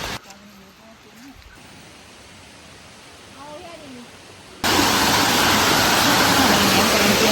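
A small forest stream in Kanneliya Rain Forest, Sri Lanka, rushes steadily, turning much louder and fuller partway through, with a few faint sounds in the background.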